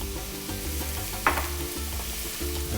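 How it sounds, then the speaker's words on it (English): Chopped onions sweating in hot oil in a pan for chicken Parmesan, a steady close sizzle with light stirring scrapes and one brief sharp clatter near the middle; no talking. "you're just gonna put your onions in there. And sweat those down."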